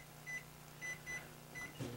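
A microwave oven runs with a steady low hum while cooking risotto, with faint higher tonal blips recurring in a loose rhythm.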